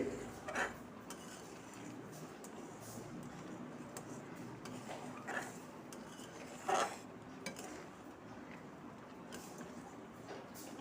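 Raw mango juice reducing in a pan over low gas is stirred steadily, with soft scraping and occasional clinks of a utensil against the pan, quiet and close.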